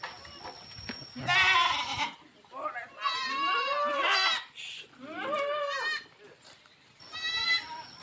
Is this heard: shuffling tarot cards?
no